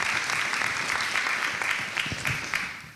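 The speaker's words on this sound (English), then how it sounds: "let's give a round of applause to the partners that are listed on your program." Steady audience applause fills a philanthropy and foster care event, a dense wash of many hands clapping at moderate volume, easing off slightly toward the end.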